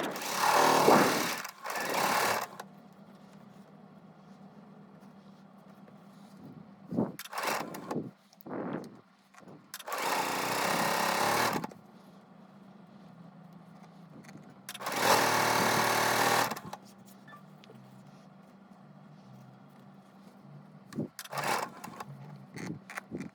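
A sewing machine stitching quilt pieces for a Peach Street quilt runs in several bursts of rapid, steady whirring. Long runs alternate with short stops and brief clicks, all fairly close and free of talk.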